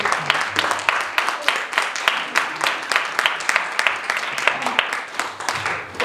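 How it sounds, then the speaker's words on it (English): An audience at a community Diwali event applauds warmly, with dense, steady clapping from many hands filling the room, close and fairly loud, with faint voices mixed in. "big round of applause for all the community"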